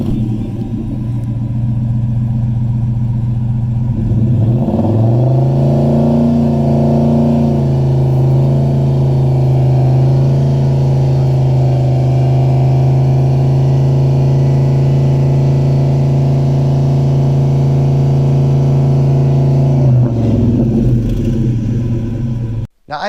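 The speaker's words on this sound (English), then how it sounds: "that car, it's not even very loud, and it was already at 95 decibels at idle" A car with a loud exhaust starts up and holds a deep, steady idle drone for about fifteen seconds before cutting off, close and loud, with no talk.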